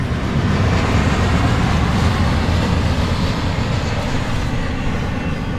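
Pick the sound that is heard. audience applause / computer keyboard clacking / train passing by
train passing by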